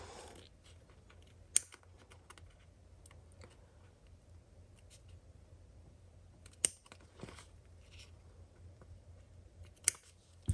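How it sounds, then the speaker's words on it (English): Scissors snip fabric into a corner while sewing a foldover bag, giving a few sharp, close clicks spaced several seconds apart over quiet room noise. "clip all the way to that corner"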